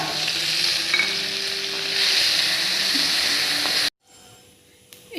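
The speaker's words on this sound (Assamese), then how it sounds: "ফ্ৰাই কৰি লওঁ চব্জি" Vegetables frying in a wok with oil: a loud, steady sizzle and stirring scrape for about four seconds, then a sudden cut to quiet with faint clatter.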